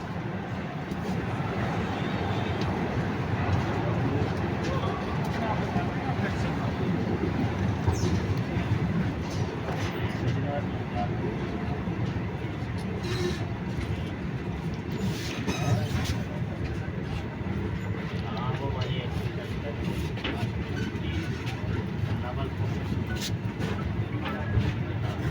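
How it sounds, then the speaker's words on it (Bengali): A train rolls slowly out of Srinagar station in Kashmir, producing a continuous moderate rumble and faint rail clatter from inside a crowded carriage, with occasional faint knocks. "শ্রীনগর স্টেশন থেকে ছেড়ে দিল ট্রেন।"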